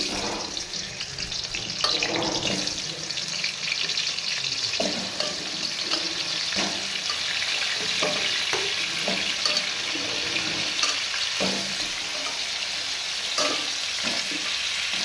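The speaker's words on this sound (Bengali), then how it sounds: "আলুগুলো আমি এখন লাল লাল করে ভেজে নেব" Steady crackling sizzle of potatoes frying in a wok, with occasional clinks and scrapes of a utensil moving them around, no voices.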